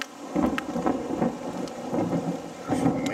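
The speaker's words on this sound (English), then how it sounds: "There's some mean sound of thunder." Rain falling steadily with low rumbling thunder during a supercell storm with large hail, a continuous outdoor wash with repeated deep rolls and no voices.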